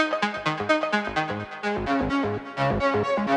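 Digitakt synth sound driven by a breath control macro that softens the amp attack and adds bit reduction and overdrive: a dense, gritty run of rapid pitched notes, steady and loud, with no talk.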